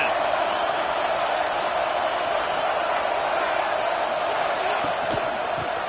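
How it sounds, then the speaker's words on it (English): Stadium crowd roar from the football video game College Football 26, a steady dense wash of noise at a big rivalry game against UGA, loud and continuous throughout with no clear breaks. "This crowd trying to make life miserable for this offense."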